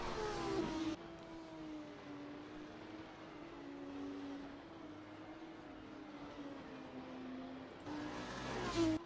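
ACF2 championship race cars speed past on the circuit in Tunis, their engines droning and shifting pitch as they accelerate, fairly faint and distant, with a louder pass at the start and end.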